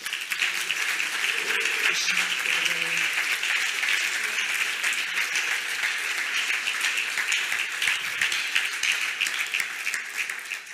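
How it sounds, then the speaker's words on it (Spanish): A church congregation claps loudly for God during a Spanish-language worship service, a dense, steady wash of applause lasting the whole stretch with a brief low murmur of voices early on. "Dele un fuerte aplauso a Dios"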